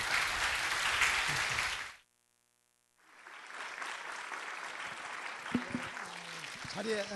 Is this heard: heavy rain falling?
no